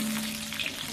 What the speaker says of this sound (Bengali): আলুটা একটু হালকা ভাজা হয়ে যাবে।